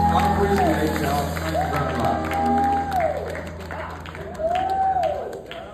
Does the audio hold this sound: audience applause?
yes